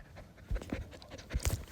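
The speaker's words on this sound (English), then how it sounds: "My dog's here." A dog pants close by in quick, uneven bursts of breath, with a few louder huffs near the end and no talking.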